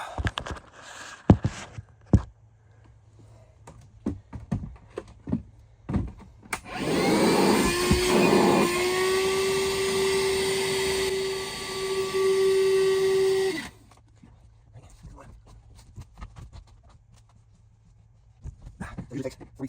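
A vacuum sucks water from an air-conditioner drain pan, roaring steadily for several seconds and rising in pitch as it draws. Scattered clunks and handling noises surround it.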